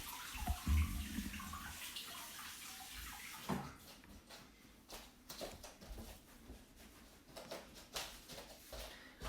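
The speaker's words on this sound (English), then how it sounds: "I'm just going to rinse off my hands" Tap water runs and splashes while hands are rinsed at a kitchen sink during baking, a steady close gush broken by uneven splashing.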